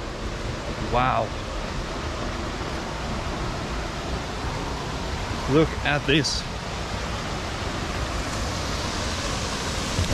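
Steady broadband rush of a waterfall pouring into a pool in Samaipata, Bolivia, heard up close and continuous throughout, with brief speech and a few other short sounds over it.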